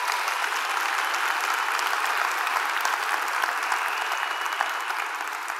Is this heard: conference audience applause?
yes